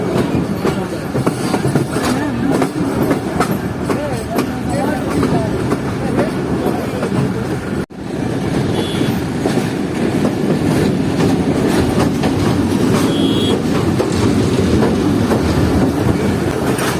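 Sukkur Express passenger train crossing a bridge at night, a loud continuous rumble with rhythmic clickety-clack of wheels on rails, one brief dropout midway, and a voice speaking intermittently over the din.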